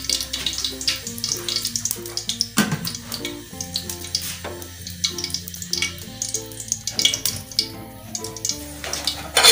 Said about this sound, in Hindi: घी हमारा गर्म हो जाएगा, उसके बाद हम डाल देंगे मटन।